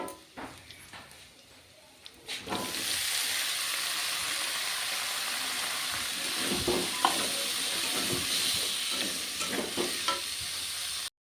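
Cut sweet pumpkin goes into a pan of fried onions and sizzles loudly and steadily, with scraping and stirring knocks on top of the hiss.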